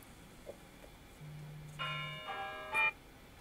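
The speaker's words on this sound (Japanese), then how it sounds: "教会の鐘が鳴りましたのでストップしてください。" A church bell rings as a timer signal during an indoor workshop, giving a few faint, distant resonant strikes with a lingering hum and fading overtones.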